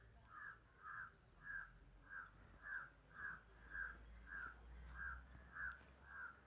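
A crow near Aliyar Dam caws about eleven times in a steady, even rhythm, fairly faint and a little distant. A low background rumble runs underneath, with no talking.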